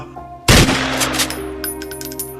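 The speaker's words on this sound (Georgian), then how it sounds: "ორი გასროლით დააწვინა მიწაზე პორუჩიკის სიკო დევდარიანი." A rifle fires in an audiobook scene of soldiers at a parade, giving one loud, sharp blast that decays slowly into a lingering ring over a faint tonal background.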